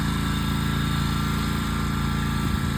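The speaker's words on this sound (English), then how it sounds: "Ride all over this yard with your daddy, mowing the entire yard." A riding lawn mower engine runs steadily while mowing a yard, a loud, continuous droning rumble close by with no voices over it.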